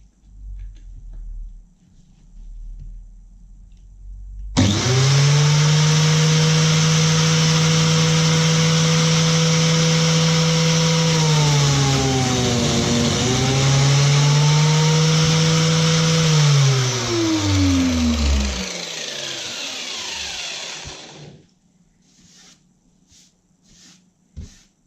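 A power saw bites into an oak window sill, spinning up loud and steady with a tone that dips midway through the cut before winding down and stopping, leaving a quiet room.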